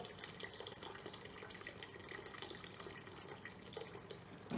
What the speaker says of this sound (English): And not to forget, half a liter of boiling water.